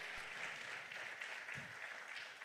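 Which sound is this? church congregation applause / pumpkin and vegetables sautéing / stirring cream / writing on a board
church congregation applause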